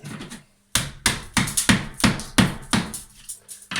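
A claw hammer strikes plasterboard and wall tiles on a timber stud wall, breaking them off with about nine sharp, close knocks in a fairly even rhythm after a brief pause.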